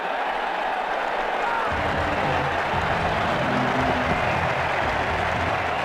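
Stadium crowd at an IPL cricket match between Mumbai Indians and Rajasthan Royals, cheering and applauding a shot, a broad sustained wash of clapping and roar from a distant mass of spectators, steady throughout.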